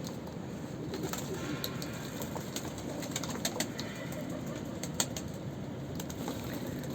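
Around thirty pigeons cooing while bathing together in a basin, a steady, dense chorus of many birds at once with soft wingbeats and scattered calls throughout.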